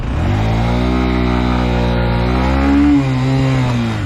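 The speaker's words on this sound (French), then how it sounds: "Vraiment pour une moto comme ça, le bruit est parfait, je trouve." A 2025 Honda CB125F motorcycle engine runs loud and close, a steady single-cylinder drone with a brief rise in revs near the end, no voices over it.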